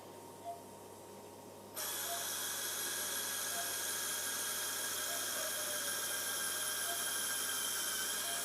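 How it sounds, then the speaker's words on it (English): A high-pitched surgical drill whines steadily and continuously after a brief quiet start, drilling into a dog's bone close by without letting up. "I'm just drilling holes in"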